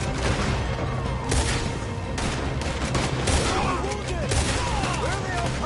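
Gunfire in a Red Dead Redemption 2 shootout at a bar: dense, continuous volleys of shots with rapid cracks and rolling echoes, loud throughout, while characters shout under and between the bursts.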